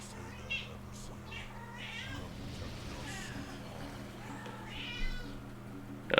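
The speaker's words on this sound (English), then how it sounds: "I don't know if y'all can hear, but one of my cats really thinks it's petting time" A pet cat meows a few times, moderately close, over a low steady hum from game audio, with a sharp noise at the very end.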